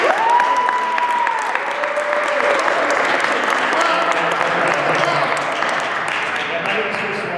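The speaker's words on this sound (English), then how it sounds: "Round of applause for Chris Wright." An audience at an event on the future of AI applauds Chris Wright, founder of the Artificial Intelligence Trust Council, with loud, dense, sustained clapping that fills the room, and a brief whistle-like tone appears near the start.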